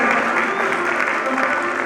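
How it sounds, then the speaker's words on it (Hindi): A theater audience gives dense, sustained applause as an actress is called to the stage at a drama event, a loud continuous roar of clapping with no gaps. "आप सबके भरपूर तालियों में please give a big hand"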